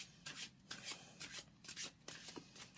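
Tarot cards are shuffled and drawn by hand in quick, soft papery bursts, about eight riffles and slides in close succession. The sound is near and quiet, with no talking.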